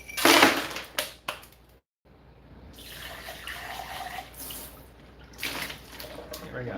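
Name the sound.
rinsing out a smoothie cup with water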